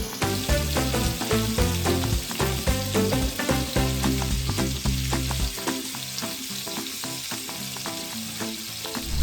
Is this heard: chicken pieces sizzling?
yes